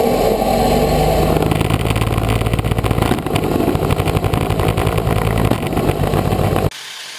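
Motor-driven flywheels on a frisbee shooter robot built for FRC Ultimate Ascent 2013, spinning with a loud, steady mechanical whir and buzzing drone that cuts off abruptly near the end.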